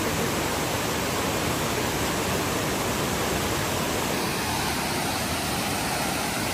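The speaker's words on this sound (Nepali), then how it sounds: "खोला सलल बगेको छ।" A stream flowing beside a campsite in Korea, a dense, even rushing of water close by that holds steady and loud from start to finish with no voices.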